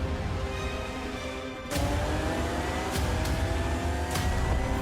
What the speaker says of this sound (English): Cars go vroom vroom.